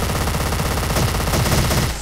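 Mirror Dual MP9 twin submachine guns firing in the video game Special Force, a loud continuous rapid burst of shots with no pauses.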